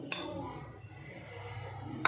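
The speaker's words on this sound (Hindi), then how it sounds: "तब तक मैं इधर दूसरे तरफ दाल छौंकने के लिए कढ़ाई रख लूँ।" A metal kadhai is set down on the stove in a home kitchen, ready for tempering dal: a sharp clink at the start, a quiet low hum, then another bright metallic clink at the end.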